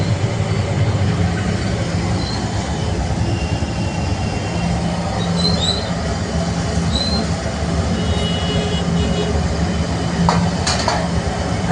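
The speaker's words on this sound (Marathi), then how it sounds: "आता मी तुम्हाला पोहे कसे तळतात ते दाखवतो" Poha dropped into hot oil in a large pan for crispy chivda, a continuous loud frying roar and hiss with occasional metallic clinks of a utensil.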